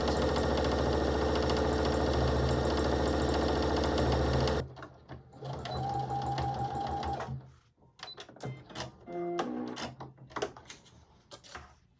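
A sewing machine runs a steady, loud, continuous stitching drone for several seconds while sewing a seam on a onesie at 5/8 inch, then stops and leaves quieter clicks and handling noises.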